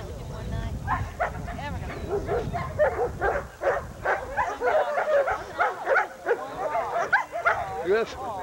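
Dog barking and yipping repeatedly at close range during a dog training session, sharp rhythmic barks across the whole stretch with a voice talking over them.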